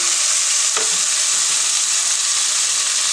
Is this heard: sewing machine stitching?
no